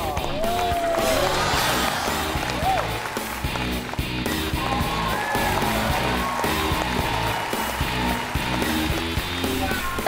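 A studio audience at a Chinese television talk show applauds and cheers as the guest's wife is welcomed onto the stage, steady loud clapping filling the space with crowd noise and some voices mixed in.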